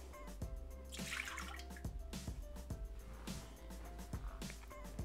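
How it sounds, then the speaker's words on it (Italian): Milk trickling and pouring into a Thermomix TM6 mixing bowl, soft quiet splashes and drips arriving in several short bursts, close and faint with no talk. "Iniziamo la ricetta mettendo all'interno del boccale il latte."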